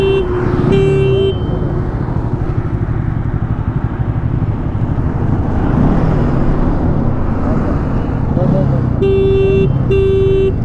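Horn toots from a KTM Duke 250 and a Bajaj Pulsar NS 200 lined up for a drag race, a short steady honk near the start and two more near the end, over constant engine and traffic noise with talk.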